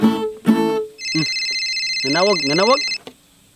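A telephone rings with a steady, bright electronic ringtone lasting about two seconds, close and fairly loud, while voices speak over it and briefly just before.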